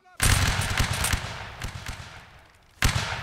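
Musket volley fire in a Napoleonic Wars line battle game: a loud, ragged crackle of many shots rolling for a couple of seconds, then a second sharp burst, close and dominant.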